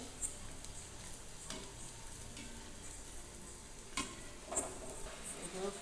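Sweet potato and potato vadas fry in hot oil in a small kadhai with a quiet, steady sizzle, broken by a few sharp pops and light clinks.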